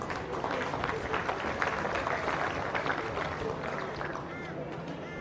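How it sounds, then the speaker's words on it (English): Audience applause at a youth championship presentation ceremony, a dense, steady wash of clapping from a crowd with murmuring voices mixed in, holding at an even level throughout. "Give them a round of applause."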